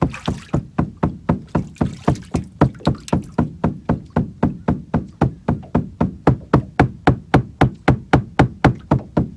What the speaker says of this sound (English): I better beat the boat.